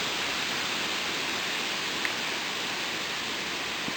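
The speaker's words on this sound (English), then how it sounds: "I don't know how well you guys can pick up on this rain," Heavy rain falls steadily during a thunderstorm at night, a dense, even hiss that holds unchanged throughout with no voices and only a couple of tiny taps.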